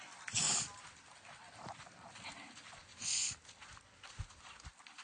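Horse hooves clip-clopping during a tryout ride on a newly acquired riding horse, with soft, irregular footfalls at moderate distance, a couple of louder bursts and faint background noise.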